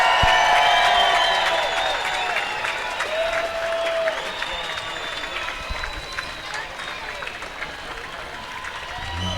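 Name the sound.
swim meet crowd cheering and applauding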